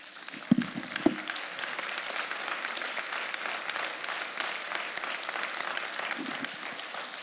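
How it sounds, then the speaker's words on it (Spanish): A church congregation applauding, steady crowd clapping with a few sharp close claps near the start, sustained and fairly faint throughout. "Si le va a aplaudir al Señor,"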